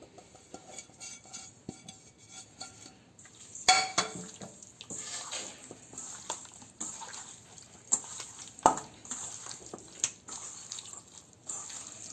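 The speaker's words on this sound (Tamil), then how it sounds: "இப்போ நம்ம எடுத்து வச்சுருக்க சிக்கனில் இந்த மசாலாவை போட்டு மிக்ஸ் பண்ணிக்குவோம்" Chicken mixed with masala in a bowl, giving quiet, intermittent clinks and scrapes of a utensil against the dish with soft wet squelching sounds between them.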